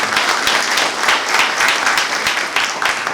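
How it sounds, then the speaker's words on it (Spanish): Dense, steady clapping from an audience filling a hall at a formal evening ceremony, loud and sustained throughout with no pauses. "Fuertes aplausos."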